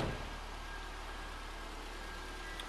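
A 2006 Subaru Forester's 2.5 liter four-cylinder engine idles with the hood popped, a steady low hum running evenly and fairly quietly throughout with no voices.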